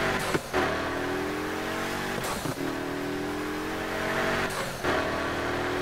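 A car engine in the video game Need for Speed Heat revs steadily, climbing in pitch and then dropping at each gear shift, three shifts in a row, loud and continuous.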